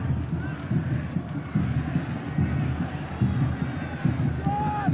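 Capacity crowd at Suncorp Stadium for the 1996-97 NSL Ericsson Cup Grand Final between Brisbane Strikers and Sydney United, a broad, continuous roar with wind buffeting under a commentator's talk.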